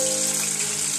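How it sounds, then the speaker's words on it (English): Water poured into a kadhai of frying masala in a home kitchen, a brief steady gush with a bright hissing wash, close and alone. "what you do is you put some water in that."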